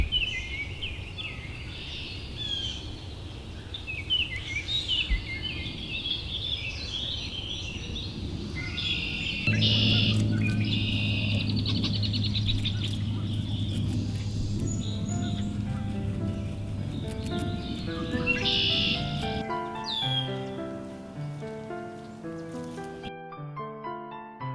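Birds singing and calling in Great Meadows during spring and summer, a busy layered chorus of chirps and trills that runs steadily throughout with a low rumbling background in the middle.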